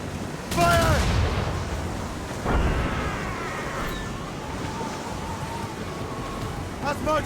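Ship cannons boom in broadside volleys during a naval battle in Assassin's Creed Rogue, two loud blasts about two seconds apart with rumbling tails under shouted crew voices and wind.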